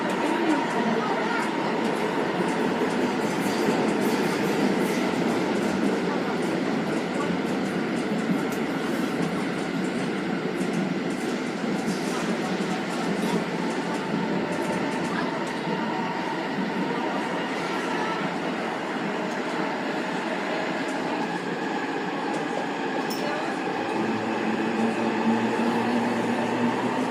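A Sendai City Subway Tozai Line train runs between Yagiyama Zoological Park and Arai, with a steady loud rolling rumble and rattling wheels on rails throughout and a slight pitch shift near the end.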